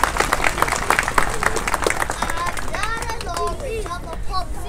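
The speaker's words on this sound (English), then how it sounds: "Let's give him a round of applause" Crowd applause at an outdoor Tibetan National Flag Raising Ceremony, a loose patter of many hands at close range that thins out, with people talking and calling out over it and a voice among them.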